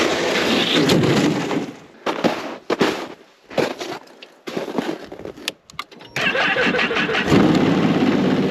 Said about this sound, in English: we'll go get the snow machines warming up, or snow machine